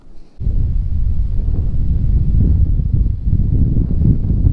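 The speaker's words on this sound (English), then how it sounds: "Golly, where'd this wind come from?" Strong wind gusting over a small creek during kayak fishing, heavy low rumbling buffeting that hits the microphone loudly after a brief quiet start and continues unbroken.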